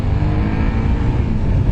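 A Suzuki SV650 motorcycle engine revs hard and steadily while accelerating, a dense, loud growl that holds through the whole stretch without letting up.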